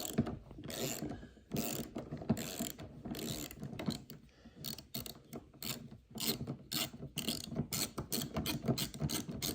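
Hand ratchet working a bolt loose on a 1986 Chevrolet Corvette, a close, steady run of clicking strokes that repeat back and forth with brief pauses, no speech over it.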